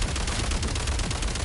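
Rapid automatic gunfire in a video game, a dense continuous rattle of shots filling the short stretch at steady loudness.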